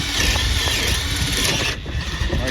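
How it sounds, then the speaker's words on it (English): A steady mechanical whir of a power drill boring into a deer skull runs continuously, briefly dipping near the end before resuming, close and fairly loud. "I take a drill, and I'll run me a drill in here."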